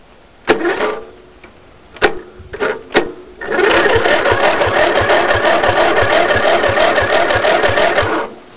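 A racing mower engine is cold-started with a battery cutoff switch: a few sharp clicks come first, then the starter cranks loudly and rhythmically for several seconds without the engine catching.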